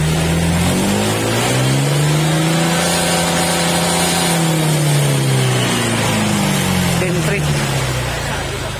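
Remapped Honda Click125 V3 scooter engine with stock exhaust revving loudly up and down, one long swell of rising then falling pitch held near and steady for almost nine seconds.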